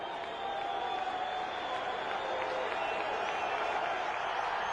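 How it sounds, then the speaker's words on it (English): Falcons fans in the stadium at an Atlanta Falcons versus Buffalo Bills NFL game make a steady, distant roar of crowd noise and cheering, with a commentator's voice faintly over it. "First time we've heard this Falcon crowd get a little vocal on 3rd down and 4."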